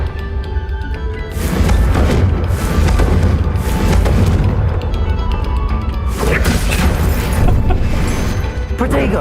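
Confringo fire-spell explosions in the video game Hogwarts Legacy, loud repeated booms and crashes over dense game sound, with voices talking in the mix.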